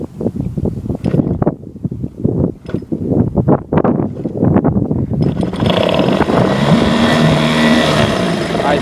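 A small Johnson 4 hp outboard motor started without the pull starter, first sputtering in uneven bursts, then settling into a steady loud running drone close to the microphone, with wind noise.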